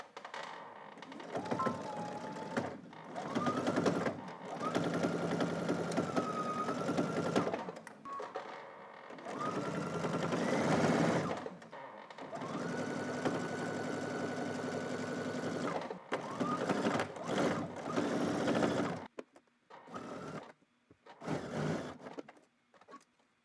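A sewing machine runs a narrow zigzag stitch on a knit T-shirt in long sustained hums with brief pauses between runs, close and moderately loud, with a few short bursts near the end.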